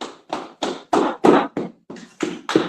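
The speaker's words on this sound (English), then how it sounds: "Go ahead, clap it up one more time" During a Sabbath church service, hands clap in a steady rhythm, about nine crisp, evenly spaced claps close up, with no talking over them.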